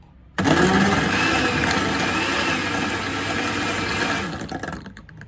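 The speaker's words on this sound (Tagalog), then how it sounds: "I-blend ulit natin ng konti." A blender whirs through a fruit smoothie, starting abruptly and running loud and steady for about four seconds before cutting off, with no talk over it.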